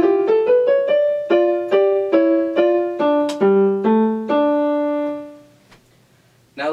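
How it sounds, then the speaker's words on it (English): Second violin accompaniment line from a violin duet's evil theme, played solo: a sequence of about a dozen short, accented bowed notes moving downward, ending on a longer held note, close and clear. "what the other violin plays at the same time"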